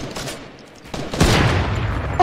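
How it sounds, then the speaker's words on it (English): Rapid gunfire while shooting an opponent in the Fortnite video game, a dense burst of shots that starts quietly and grows loud and continuous in the second half. "I'm shooting him in the back, bro."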